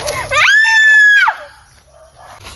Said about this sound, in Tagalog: May sumigaw.